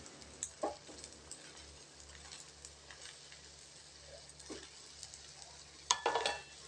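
Egg oothappam cooking on a hot pan, a faint steady sizzle with scattered light clinks and a brief louder scrape near the end.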